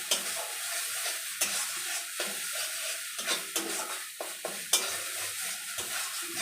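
A spoon continuously stirs ridge gourd peel paste frying in a pan, with a soft steady sizzle under repeated scraping strokes and occasional sharper clicks against the metal, heard close.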